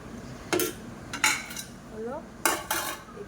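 A spoon stirs masala moong dal in a pot, giving a few short metallic clinks and scrapes spaced irregularly against a quiet kitchen background.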